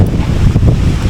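Strong wind roars across the microphone in a loud, steady buffet on an outdoor trip in Pangasinan, filling the short moment with no voices.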